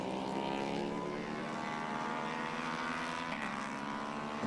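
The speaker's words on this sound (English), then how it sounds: "Gingerly on the throttle is that Aprilia." An Aprilia RS 660 racing motorcycle on a road course in a MotoAmerica Twins Cup race at Alabama, its engine a steady, droning buzz heard from a distance with little change in pitch for a few seconds.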